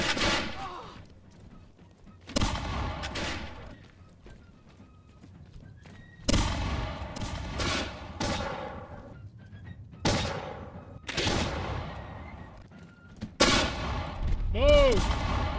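Musket volleys crack out in the video game Bannerlord with the 1715 Americas mod: several loud, sharp bursts of massed gunfire at uneven intervals, mixed with horse whinnies and hoofbeats on a battlefield.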